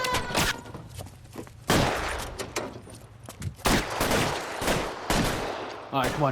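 Rapid bursts of gunfire from the video game L.A. Noire during a daylight bank robbery, with repeated loud shots and volleys throughout and a brief spoken line under them.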